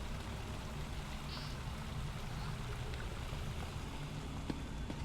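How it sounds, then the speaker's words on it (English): A custom-built waterfall in an Elder Scrolls Online player house rushes with a steady, even hiss of falling water that never changes in level and plays alone throughout. "So I have a beautiful waterfall on this side."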